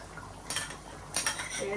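Metal spoon clinking against a cooking pot as cumin paste and cardamom-cinnamon spices are added to duck meat curry, two brief bursts of clattering in a quiet kitchen.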